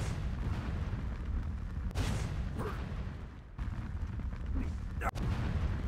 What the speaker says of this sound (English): So you can select a casting sound, flying sound, and an explosion as well